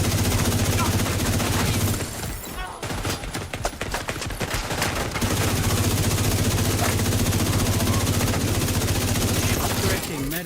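Rapid bursts of automatic gunfire rattle in a video game over a constant droning hum, with a dense flurry of shots in the middle before the steady background returns.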